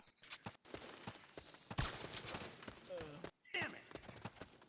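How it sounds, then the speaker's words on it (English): Bursts of gunfire crackle in Metal Gear Solid 4, with rapid sharp shots and a louder blast amid battlefield noise, while a voice talks over them. "I hear gunfire, but as long as they ain't shooting at me, I'm not concerned."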